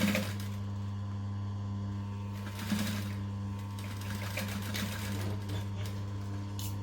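A sewing machine runs steadily, stitching back down a missed seam on a fabric clutch bag, its motor hum constant with a busy needle chatter throughout, close and alone.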